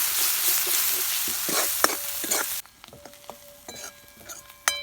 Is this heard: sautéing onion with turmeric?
yes